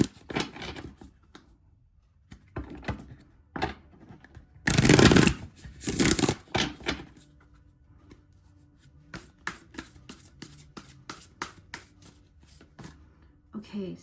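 A deck of dream cards is shuffled by hand in several short bursts of riffling and sliding, close and fairly loud, separated by quieter stretches with soft handling clicks.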